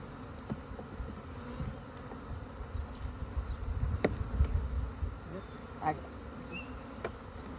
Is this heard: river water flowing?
no